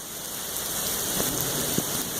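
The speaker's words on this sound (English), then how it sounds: "it's thundering like crazy out here" Heavy rain pours steadily in a thunderstorm outdoors, a dense close hiss filling the whole stretch with a couple of faint low rumbles beneath, no one talking.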